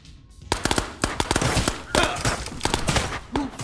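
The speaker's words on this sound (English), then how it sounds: "let me just pick up my MP40 again to kill these phoenixes very quickly" An MP40 submachine gun fires in the video game Ghosts of Tabor: loud, rapid bursts of sharp shots crackle close up, nearly continuous for several seconds after a short quiet start.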